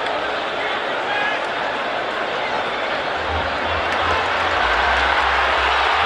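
A stadium crowd at the 2000 Gold Cup soccer match between the USA and Haiti keeps up a loud, continuous roar, with a commentator's voice heard beneath the broad wash of noise.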